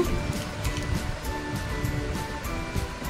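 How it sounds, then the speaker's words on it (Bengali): Cold water pours steadily onto mashed roasted mango in a kitchen as a drink is made, a continuous close rushing splash that stays even and fairly loud throughout. "এইবারে ঠান্ডা জল দেব"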